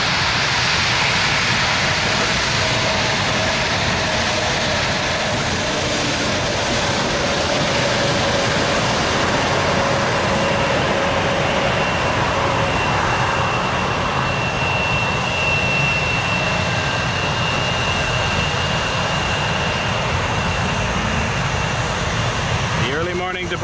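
An Embraer 175 airliner departs Toronto Pearson as a loud, steady jet engine roar that fills the whole stretch, with a faint whine sliding through it and distant radio chatter underneath.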